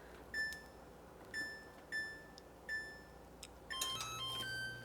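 An oven control panel gives four evenly spaced electronic beeps while it is set to 350, then a quick cluster of beeps over a faint low hum.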